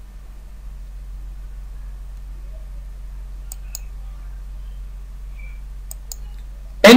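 A few faint, sharp computer mouse clicks stand out over a low steady hum, set in pairs, with a louder click right at the end.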